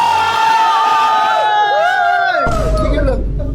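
A group of people shouting and cheering together, loud and close, with whoops and excited calls that rise and then give way to a rougher burst of crowd noise.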